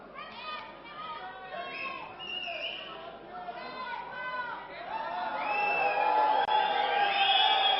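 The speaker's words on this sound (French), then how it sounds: "Applaudissements de la foule, vous pouvez en juger, pour Jackie Richard et Jean Ménard" Crowd at a pétanque match applauding and cheering the winning pair after they take the second round, a broad mass of clapping and excited voices that swells louder toward the end.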